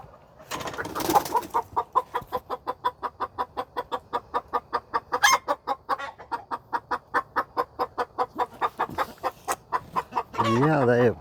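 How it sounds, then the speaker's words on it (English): Chickens cluck in a rapid, steady run of short, evenly spaced calls, close and clear, with a louder squawk near the start and a drawn-out call at the end. "I gotta get these chickens"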